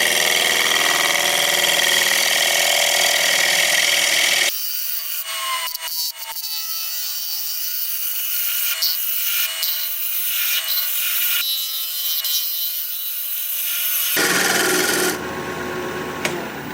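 Lathe tool cutting into a spinning koa wood bowl blank, a harsh continuous scraping and rasping with a faint whine, loud and close, that changes character in the middle and then returns to its earlier sound.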